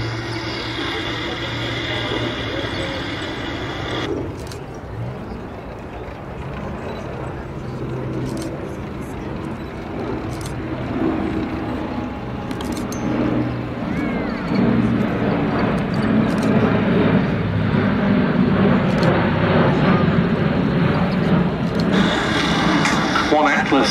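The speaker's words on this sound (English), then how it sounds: "a very nice plan view of the aircraft as it turns in front of us and heads back in towards the airfield" A military aircraft flies a display pass at the Duxford summer air show, its broad engine roar swelling from moderate to loud and steady, with a commentator talking over it.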